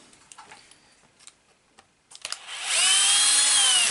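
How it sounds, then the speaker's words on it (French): A power screwdriver or small drill backs screws out of a Team Magic B8ER RC car, starting with faint ticks and clicks, then whirring steadily and loudly for over a second. "Donc, on va enlever les vis."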